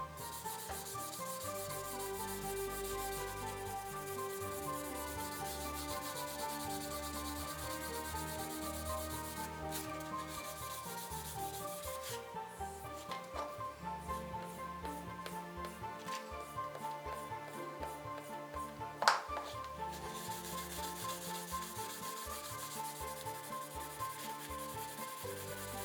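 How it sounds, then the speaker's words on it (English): Coarse canvas cloth rubbed hard along a leather handbag edge to buff in clear wax, a continuous close scratchy rubbing that runs steadily for the whole stretch with no talk. "I use clear Columbus wax swiped onto the side with a coarse canvas cloth to buff it out."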